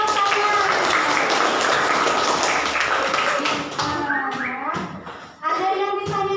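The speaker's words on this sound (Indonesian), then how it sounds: "Tepuk tangan." Schoolchildren in a classroom science lesson clap together in a dense burst of applause lasting several seconds, ending in a few rhythmic claps mixed with children's voices.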